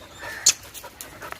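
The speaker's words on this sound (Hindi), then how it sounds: "ये इंग्लिश पॉइंटर हैं जी, पपीज़ हैं जी" English Pointer puppies pant softly near a hunting jeep, quick faint breaths with a sharp louder huff in the middle, no talking.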